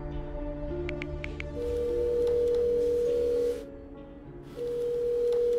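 An electronic phone ringtone plays in repeated tonal bursts, pausing briefly between rings, with no answer or voices.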